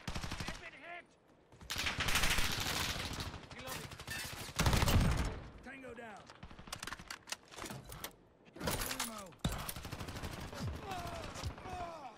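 Rapid bursts of M4 assault rifle fire in the Modern Warfare beta, loud and close, crackling in repeated volleys with short gaps and booming impacts, with faint game sounds between bursts.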